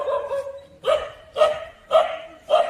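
Stray dogs that roam in packs through a Karimnagar neighbourhood bark close by: one long bark, then four sharp barks spaced evenly about half a second apart, loud and clear with no talk over them.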